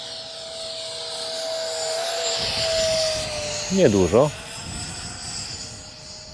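An RC MiG-17 model jet with an electric ducted fan runs with the throttle raised slightly, producing a steady high whine throughout while someone says a single word partway through.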